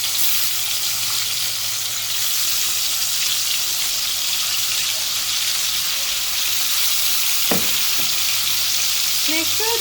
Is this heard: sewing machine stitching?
no